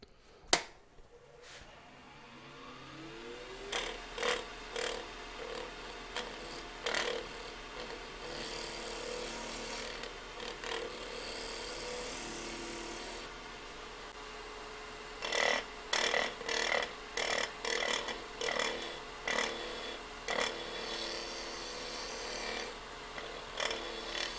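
A wooden sphere spins on a wood lathe while a tool cuts and scrapes around it, giving repeated bursts of rasping, scratchy contact over a steady low motor hum, close and moderately loud.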